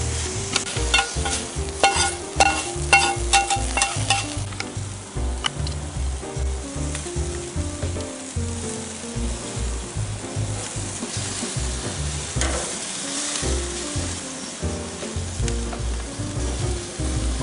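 Fajita pork steaks sizzle loudly on a hot grill outdoors, a continuous dense crackle and hiss with bursts of spattering and a low rhythmic rumble underneath, close and unbroken by talk.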